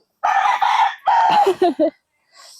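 An Allen Round gamecock in a backyard in San Ildefonso, Bulacan crows once up close, a loud, clear call broken into several ringing syllables, followed by a faint sound at the end.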